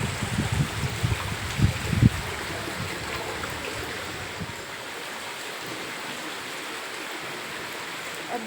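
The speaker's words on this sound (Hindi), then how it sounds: "अब भी बराबर बारिश चल रही है, रुकने का नाम नहीं ले रही है।" Monsoon rain falls in a village in a steady, even wash of noise, with a few heavier splashing gushes early on before settling into a constant hiss.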